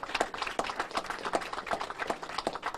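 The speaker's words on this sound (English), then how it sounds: "Let's give him a round of applause." A press conference audience applauds the police chief of the Elizabeth City Police Department in North Carolina with a faint, steady patter of scattered hand claps that continues the whole time.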